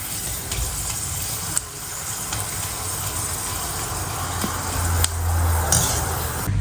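Sago and potato chakli deep-fry in hot oil, making a continuous dense bubbling hiss that stays even throughout, with a few faint clicks and a low background hum.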